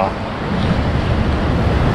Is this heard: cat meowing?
no